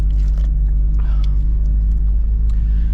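An Acura RSX Type S with aftermarket cams and a 2.5-inch exhaust idles close by, giving a loud, steady low rumble that stays even for the whole stretch with no other sounds.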